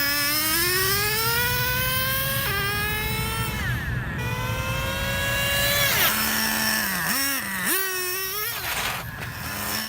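A Traxxas Revo 3.3 nitro 1/10-scale RC monster truck engine runs continuously with a buzzy, high whine, its pitch climbing and dropping through several revs and blips, loud and close throughout.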